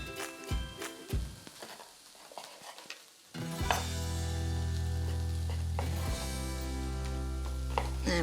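Chunks of chorizo hit a hot pan for butterbean, chorizo and feta soup, first some chopping and stirring taps, then a loud, steady close sizzle of frying meat that continues to the end without talk.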